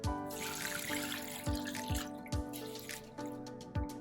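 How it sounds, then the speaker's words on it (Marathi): Flattened rice (poha) being rinsed clean in water, with soft sloshing and a series of distinct drips and splashes falling at an uneven pace, fairly quiet and close. "पोहे अगोदर आपल्याला स्वच्छ धुवून घ्यायचे"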